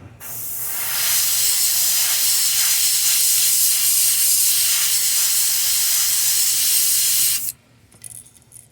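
An airbrush spraying thinned Vallejo paint while custom painting a fishing popper lure, a loud steady hiss lasting about seven seconds before cutting off abruptly, leaving quiet room noise.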